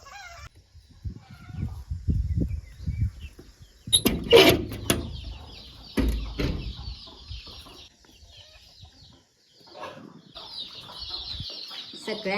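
Chicks kept covered inside a cattle shed chirping in thin, high peeping runs, mixed with some clucking from fowl nearby and a few louder bumps.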